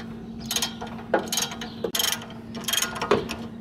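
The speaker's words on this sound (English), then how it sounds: "This is the parking brake cable, so we have to remove the nut for that." Repeated ratchet strokes loosen a rusty, jammed nut on a car's parking brake cable, four or five rasping clicking bursts in a steady back-and-forth rhythm, close and clear without speech.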